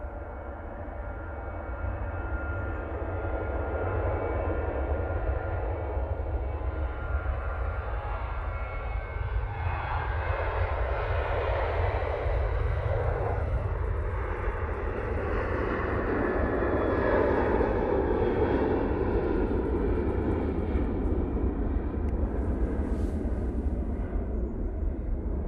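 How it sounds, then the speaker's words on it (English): A TUI Boeing 737-800 taking off at Manchester Airport, its jet engines roaring in a steady, powerful rumble that builds and holds throughout the takeoff roll, heard from a distance without any talking. "TUI, 737-800, now on the roll."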